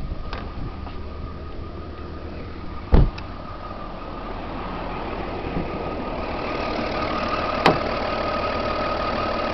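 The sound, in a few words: Audi A4 V6 TDI diesel engine idling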